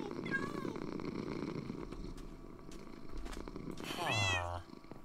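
Minecraft cat meowing and purring, a low steady purr running under ambient game sounds with a few short meows and a louder rising meow near the end, all fairly close.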